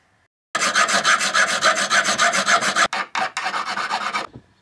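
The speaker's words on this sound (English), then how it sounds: "I'm gonna cut 6 inch piece out of this and put the new threaded rod in" A hacksaw or file rasps through a 3/8 inch threaded rod in quick, steady back-and-forth strokes, loud and close, with a short pause and a few broken strokes before the cutting resumes and stops.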